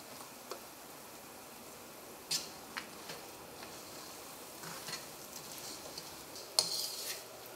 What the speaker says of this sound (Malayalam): ഈ റവ നമുക്ക് നെയ്യിലിട്ടിട്ട് നമുക്കൊന്ന് വറുത്തെടുക്കാം